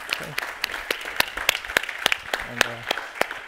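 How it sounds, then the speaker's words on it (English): A small audience claps for panel guests after a talk on decentralised IDs; sparse, distinct claps ring out fairly close, with a voice briefly audible underneath. "Let's give them a round of applause for our guests."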